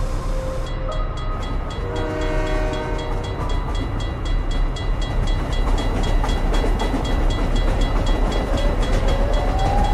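A loud video game train rumbles past with rhythmic clickety-clack, a horn sounding early on, heavy and continuous throughout.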